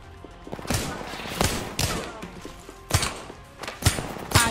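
Bursts of gunfire from the Alternator in Apex Legends, several short rapid volleys separated by brief pauses, sharp and close, with faint game sounds between them.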